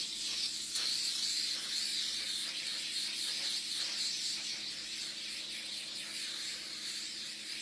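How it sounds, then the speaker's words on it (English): Cooking spray hisses steadily onto a baking pan being greased and floured for retro potato chip cookies, a continuous close spray with slight fluctuations in intensity and no talking. "I'm going to go ahead and grease and flour my pan"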